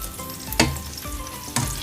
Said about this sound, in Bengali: আমার কোয়েল পাখিটা ভাজা হয়ে গিয়েছে। আমি চারিদিকে উল্টে পাল্টে নিয়েছি।